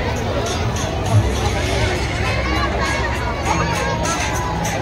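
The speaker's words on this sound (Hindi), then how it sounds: "यहाँ पर भीड़ कितनी है।" Dense crowd hubbub at a Dubai-themed carnival in Lucknow, a steady wash of overlapping voices and chatter from many people close around, with a few louder shouts rising briefly out of the murmur.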